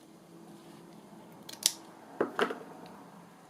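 Scissors snipping through a lace tab during journal crafting, a few crisp close cuts in quick succession against a quiet room.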